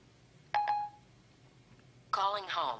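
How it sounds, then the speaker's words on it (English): An iPhone 4S dialing through Siri gives two short, bright tone beeps, followed after a pause by a synthetic voice speaking over a quiet background. "let's start off by making a phone call"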